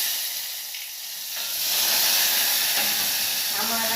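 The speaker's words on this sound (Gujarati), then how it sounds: "આપણે શાક વઘારી લઈએ ને પછી વઘારીએ સંભારો" Vegetables tempered in hot oil in a pan on a gas stove, a steady close sizzling hiss that swells louder partway through and keeps frying without talk.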